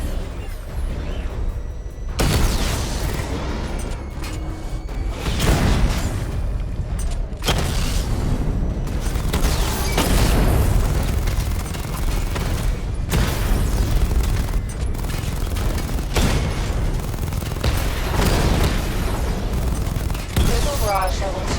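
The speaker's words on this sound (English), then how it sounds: "Charge up missile barrage to level 2 and destroy 4 active targets to complete diagnostic test." Missile barrage explosions from Batman: Arkham Knight, a continuous run of loud, overlapping booms and blasts with mechanical whirring, dense and sustained throughout with no clear gaps.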